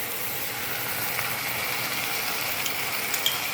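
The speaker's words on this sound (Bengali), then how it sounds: "রসুন আর আদাটা আমি তেলের মধ্যে খুব ভালো করে কষিয়ে নেব, তেল বার হওয়া পর্যন্ত" Garlic and ginger sizzle steadily in hot oil in a home kitchen pan, a close, even frying hiss with faint pops throughout and no voices.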